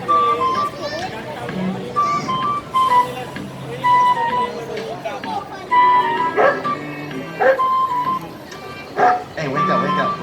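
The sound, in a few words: puppeteer imitating a dog barking and whimpering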